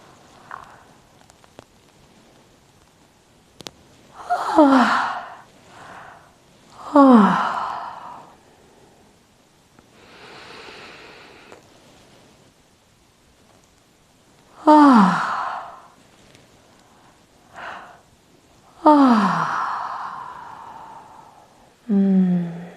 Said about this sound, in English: open up the mouth real wide and just invite in a few big, juicy, long, sweet yawns